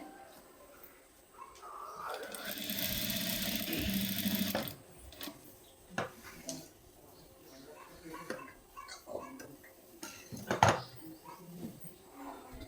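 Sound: sewing machine stitching blouse fabric

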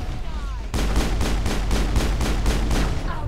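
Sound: gunshot in video game Mass Effect

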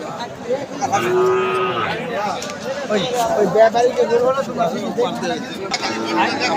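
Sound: cattle mooing at a livestock market

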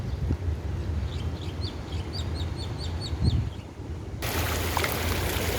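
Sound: waterfall in front of Central Chiang Rai mall

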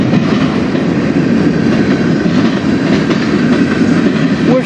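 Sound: freight train passing

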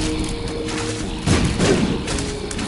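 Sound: enemies shooting in video game The Binding of Isaac

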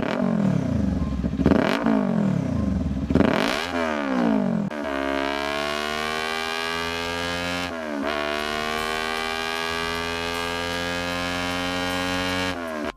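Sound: Kawasaki Ninja 400 dual-cylinder motorcycle exhaust sound

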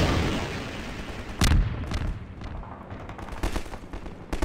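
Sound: rocket launcher firing in video game Half-Life 2

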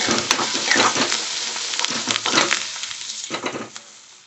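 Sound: peanuts, curry leaves and turmeric frying for poha

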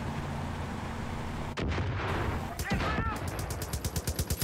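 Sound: gunfire and explosions in the video game Far Cry 5

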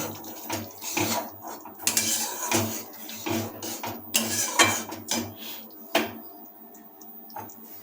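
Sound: stirring yogurt gravy with a spatula in a pan

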